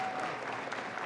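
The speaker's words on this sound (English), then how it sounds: "Antonio Delgado, let's give him a round of applause." Applause at a political rally for a lieutenant governor: a continuous wash of clapping from a crowd, steady and fairly full throughout the short stretch.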